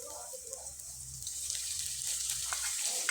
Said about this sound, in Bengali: সবজিটা দেওয়ার পরে খুব ভালোভাবে আমি নেড়ে চেড়ে নিব